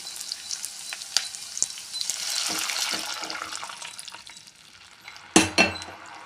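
Food sizzles steadily in a hot pan with occasional clinks, then horse gram water is poured in for a curry, setting off a sudden, loud burst of hissing.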